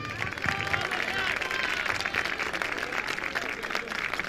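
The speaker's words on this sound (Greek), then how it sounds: "Ακόμα ένα χειροκρότημα για τα παιδιά" A crowd at a football club fiesta in Keratsini applauds the children with dense, sustained clapping that fills the room, mixed with scattered cheers and voices.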